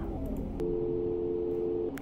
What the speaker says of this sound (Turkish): bu alarmlar neden telefon sesi gibi?